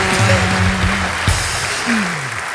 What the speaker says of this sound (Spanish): Un aplauso para Laura Zapata,